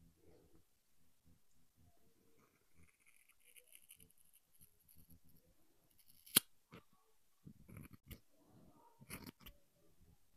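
Scissors cutting hair that has been parted in two, a series of close, crisp snips and clicks, some sharp and loud, others soft, spaced irregularly between quiet moments of handling.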